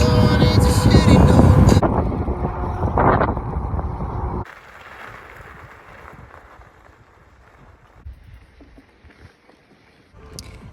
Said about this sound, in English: when I got there it was really windy, which was making it quite cold